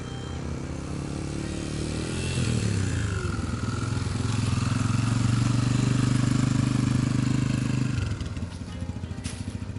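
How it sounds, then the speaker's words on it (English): A Yamaha TTR 125 LE motorcycle rides past with a steady, rising engine drone that grows louder midway, holds, then drops off as the rider eases back. "that is Marie testing out the Yamaha TTR 125 LE"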